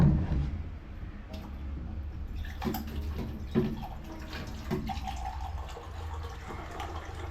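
Tap water running into bottles at a petrol pump on a hot highway stop, a steady rushing pour with a few clinks and knocks, fairly close, with no talk over it.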